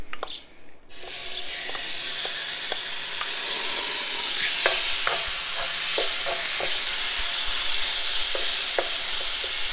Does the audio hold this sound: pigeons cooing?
no